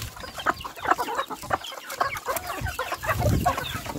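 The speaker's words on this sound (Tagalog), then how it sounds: "Alaga kong manok." Chickens cluck in short, busy bursts nearby, several birds overlapping at moderate volume.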